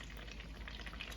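Bay leaf, star anise, cloves, cinnamon, cardamom and red chilli frying in melted butter for butter paneer masala, a steady close crackling sizzle with no pauses.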